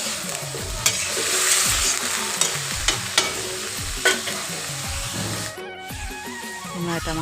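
Cabbage, peas, beetroot and other vegetables with tomato, turmeric, chilli and salt sizzle steadily in a pan while a spoon stirs and scrapes in repeated knocks, close and moderately quiet.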